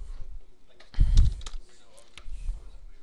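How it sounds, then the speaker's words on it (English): Someone types on a computer keyboard, a short quiet run of clicks with one louder cluster of keystrokes, close by, with a faint thump in between. "So I'm just going to type in a impact level."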